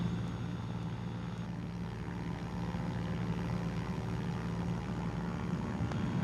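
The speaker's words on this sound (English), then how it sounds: "I better put this map away so I can fly the plane" A Cessna 210 light aircraft drones steadily through bumpy air over hills, its engine and propeller giving a constant loud hum that fills the whole stretch without pause.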